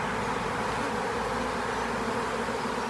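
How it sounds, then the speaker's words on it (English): Dense, continuous droning hum of many honeybees up close as a colony is transferred into a new hive box, steady and unbroken throughout. "And look how calm these lovely nurse bees are."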